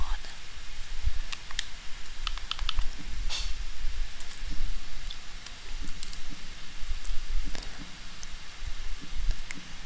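Keys clatter on a computer keyboard set to the Dvorak layout during PC play, a light run of irregular clicks and taps close by, with faint rustling and quiet background noise throughout.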